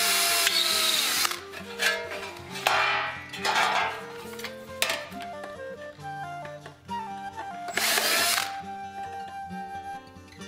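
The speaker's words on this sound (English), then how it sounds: "Now with my drill, still I have my 1/8-inch drill bit in there, and I'm just going to drill holes in the corners." A power drill fitted with a 1/8-inch bit bores holes into the corners of bronze sheet for Greek greave armor, giving several bursts of high-pitched whine and grinding. Metallic taps and clinks sound in the pauses between bursts.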